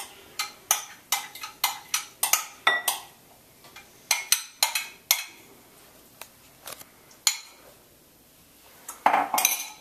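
A dip ingredient being spooned from a measuring cup into a bowl: a run of sharp, close clinks and taps of utensil against dish, irregular, ending in a louder clatter.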